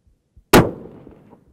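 A single sharp rifle shot at a long-range shooting session, loud and close, followed by a short decaying echo and quiet.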